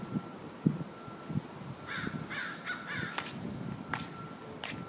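Several crows caw in short repeated calls against steady outdoor background noise, with faint footsteps or taps in between; the calls sound moderately distant.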